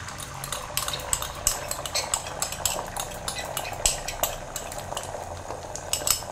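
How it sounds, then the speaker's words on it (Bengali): Beaten egg whisked briskly with a fork or spoon in a bowl, rapid rhythmic clinking against the sides, close up, before going into hot oil for egg bhurji. "এবার এই বিট করে রাখা ডিমটা আমি আরেকবার ফেটিয়ে নিয়ে দিয়ে দেবো।"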